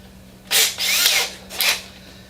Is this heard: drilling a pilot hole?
yes